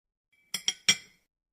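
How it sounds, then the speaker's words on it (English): Plates clink together as a sound effect: three quick, close ceramic clinks in a row, the last one ringing slightly longer, with silence around them. "We can add like sound effects of plates."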